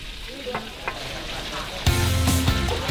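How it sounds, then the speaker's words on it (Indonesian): Small cherry fish frying in a pan for a harvest festival feast, with steady oil sizzle and crackle that jumps suddenly louder partway through as more fish hit the hot oil, close and continuous. "ikan cerinya goreng semua aja yo, jangan disisain"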